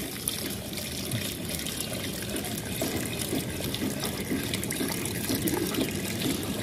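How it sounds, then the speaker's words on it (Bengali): Water is poured slowly and steadily onto potting soil prepared for a water lily, a continuous close splashing trickle with no break throughout. "আস্তে আস্তে জল দিচ্ছি।"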